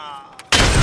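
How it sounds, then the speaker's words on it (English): A video game grenade detonates right beside the player with a sudden loud, close blast that cuts in halfway and fills the rest of the moment, after a quieter stretch of faint background sound. "That grenade blew up right on top of me."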